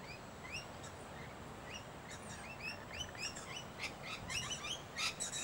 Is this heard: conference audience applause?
no